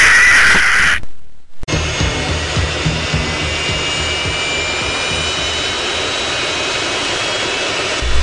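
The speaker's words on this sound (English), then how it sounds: "Fucking Raa turbines activated." Turbines spinning up into a loud, steady jet-like roar after a brief burst of sound and a second of silence, holding at full strength throughout with no voices.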